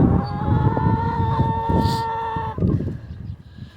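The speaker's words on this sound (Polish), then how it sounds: "O kury, jakie zaciekawione wyszły." Hens clucking and murmuring close by, with a sustained drawn-out call and several short clucks over a rustling background.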